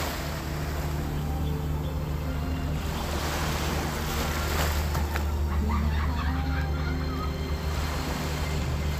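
Ocean waves wash continuously onto Pantai Mawan beach on an overcast day, a steady broad roar of surf mixed with wind buffeting the microphone.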